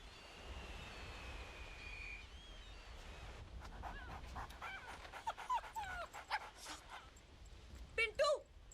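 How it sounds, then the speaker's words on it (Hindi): A dog barks and pans, with whimpering yelps and short bursts near the end, heard over murmured voices and background noise in an indoor comedy scene. "इस कुत्ते को मेरे सामने से लेके जाओ"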